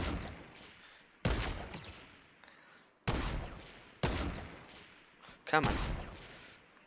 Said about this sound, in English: I was definitely being shot at.